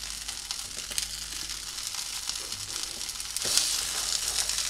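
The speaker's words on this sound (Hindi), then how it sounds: "ये मैं ज़रा सा इसे बस सिर्फ मैं इसे थोड़ी देर फ्राई करूँगी" Green chickpeas fry in oil in a pan with a steady close sizzle and occasional stirring scrapes, a brief louder crackle near the end, no voices.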